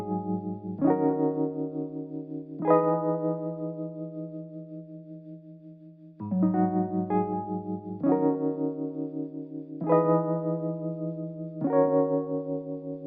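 A looped R&B keyboard-style music sample plays through tremolo and Echo Boy delay effects, its chords pulsing and repeating with echoing tails, loud and alone.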